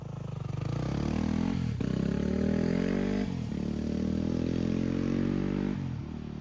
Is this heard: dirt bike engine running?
yes